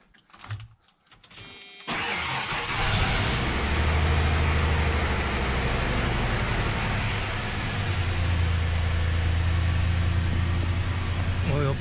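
A 1996 Ford F-150 engine cranks briefly and catches, then settles into a loud, steady idle with a deep low rumble that continues to the end.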